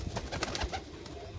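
Pigeons sold at a bird market give soft, low cooing murmurs repeated in a brief, muffled stretch against background noise.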